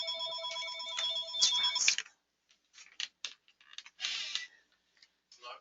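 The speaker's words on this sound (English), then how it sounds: "Ignore my phone" A telephone rings with a bright, electronic ringtone for about two seconds and then cuts off, leaving brief scattered handling clicks and rustles in an otherwise quiet indoor room.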